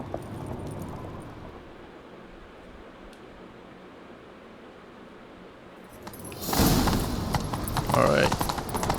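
A horse in The Witcher 3: Wild Hunt breaks into a gallop during a chase, with loud rapid hoofbeats and rushing noise building after a quieter stretch of ambient game sound.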